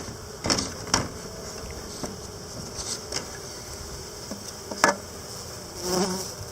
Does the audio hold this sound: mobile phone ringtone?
no